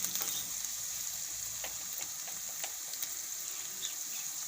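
Thecha chutney ingredients cooking slowly in a pan on a low flame, giving a steady, even sizzle with faint crackles and occasional light pops, no voices.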